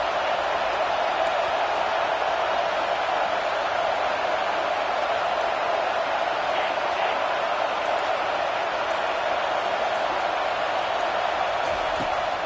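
Steady roar of a stadium crowd at a college football video game, Notre Dame at USC, a dense, unbroken wash of cheering noise with no distinct peaks, holding at an even level throughout.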